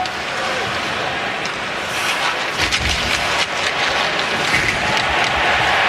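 Loud hockey arena crowd at Madison Square Garden roaring after a body check in a Penguins–Rangers NHL game, a broad sustained din with play-by-play commentary over it.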